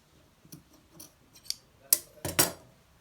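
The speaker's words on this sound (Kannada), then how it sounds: "ಇವಾಗ ಕಟ್ ಮಾಡೋಣ." Scissors cutting blouse fabric in a series of crisp, separate snips, sparse at first, then louder and closer together near the end, alone with no talking.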